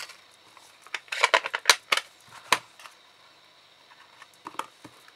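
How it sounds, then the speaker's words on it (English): Small 1-inch circle paper punch cutting through card stock at a craft table, heard as a cluster of sharp, close clicks and crunches in quick succession followed by a few lighter taps. "1-inch punch"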